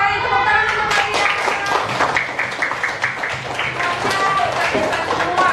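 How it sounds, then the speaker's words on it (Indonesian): Applause from a classroom of students cheering their discussion groups after presentations, a dense, steady patter of many hands clapping throughout, fairly close and lively, with voices mixed in. "tepuk tangan untuk kalian"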